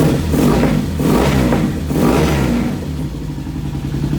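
A 1992 Yamaha TDM850 motorcycle, started without choke, idles roughly and then revs in several swelling bursts, loud and close with a low throbbing engine note and some mechanical clatter.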